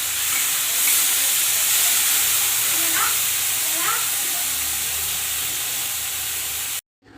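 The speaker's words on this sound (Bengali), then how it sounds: "এবারে চিংড়ি মাছগুলো ভেজে নিই দিয়ে দিলাম চিংড়ি মাছ" Shrimp fry in hot oil in a pan with a loud, continuous hissing sizzle that holds steady for several seconds, then cuts off abruptly near the end.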